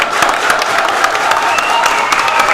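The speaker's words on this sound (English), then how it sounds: "here's the crowd coming in to give some love to Mr. Mike Kump." A large crowd at a tournament final applauds steadily, dense clapping filling the space with a few scattered cheers and some talk mixed in.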